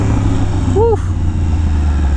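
A Yamaha R1M with a crossplane engine running loud and close, a steady low rumble with a brief voice-like tonal sweep partway through.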